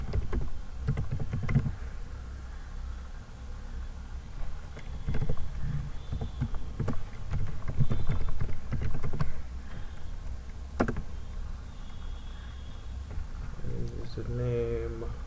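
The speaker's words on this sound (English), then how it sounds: "Just type in the email." Email address typed on a computer keyboard, a scattered series of close key clicks and taps under someone talking.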